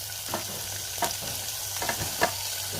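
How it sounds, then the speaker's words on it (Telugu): Ginger pieces and green chillies fry in a pan with already-toasted spices, a close, continuous sizzle with a few soft stirring scrapes spaced about a second apart, no voices. "సరుకులు కూడా వేగిపోయింది. ఇప్పుడు అల్లం ముక్కలు ఇందులోనే, తర్వాత పచ్చిమిరపకాయలు"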